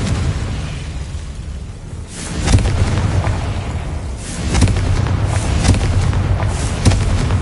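Heavy booming explosions from the Confringo fire spell in Hogwarts Legacy, several loud bursts with rumbling tails arriving in irregular succession, no talking.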